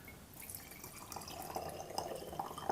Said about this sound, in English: I pour it into this Pyrex thing here